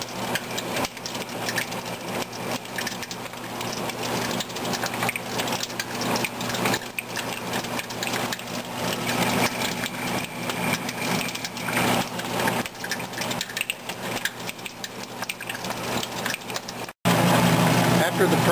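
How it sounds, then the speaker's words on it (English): Oilseed screw press running with a continuous mechanical grinding drone and rapid crackling pops and spits as the press is tightened, loud and close, with a voice talking over it before a brief cut near the end. "start to tighten the press down. Get it started and dialed in, it really starts to pop and spit."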